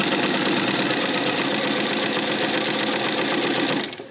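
Sewing machine stitching a gentle curved seam on quilt tile blocks, a loud, close, continuous mechanical whir that winds down at the end.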